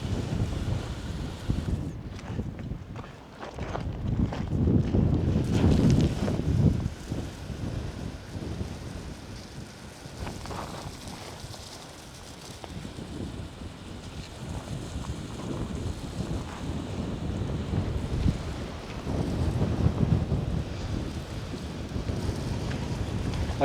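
Strong desert wind buffets and roars outdoors while plants are watered with a hose, gusting loudly in uneven surges with heavy rumbling blasts that swell and ease over time.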